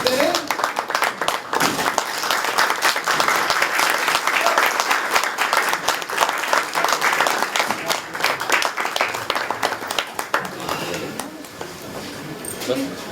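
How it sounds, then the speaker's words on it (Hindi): A theatre audience at a stage play stands and claps in loud, sustained applause, with a few voices mixed into the crowd noise, before the clapping thins and fades near the end. "सभी लोग खड़े होकर इनका एक बार तालियों के साथ स्वागत करें"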